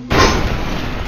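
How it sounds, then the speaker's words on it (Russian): An explosion in the Goat Simulator video game hits as a loud, sudden boom right at the start, then a sustained roar of debris and noise for about a second. "Ну, взрывайся, давай."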